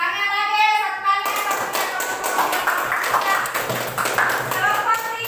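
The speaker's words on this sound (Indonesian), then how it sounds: "Tepuk tangan lagi satu kali." A classroom group claps hands together, a burst of brisk, crowded claps after a short spoken prompt, with voices mixed in.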